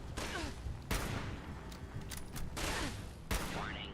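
Gunfire in Fallout 76 played with a sniper build: a few heavy, booming shots spaced about a second apart, each with a long reverberant tail, over a dense noisy background.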